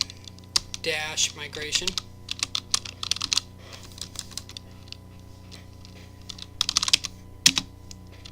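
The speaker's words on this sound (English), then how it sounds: "the next command you need to type is add" A command being typed on a computer keyboard: bursts of quick, close key clicks with short pauses between them, while someone speaks briefly over part of the typing.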